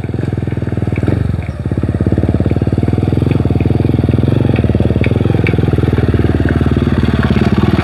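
A motorcycle engine chugs loudly and steadily close by, a rapid throbbing putter with a brief dip in the first seconds.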